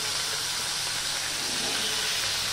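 Spiny gourd (kakrol) frying in oil in a pan for a vegetarian Bengali dish, giving a steady, close, continuous sizzle and hiss with no talk.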